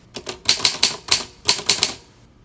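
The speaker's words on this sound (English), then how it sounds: "I've been using this typewriter a really long time." Keys strike a vintage Olympia typewriter in two quick bursts of sharp, close, clacking strokes separated by a short pause, loud and clear with no speech.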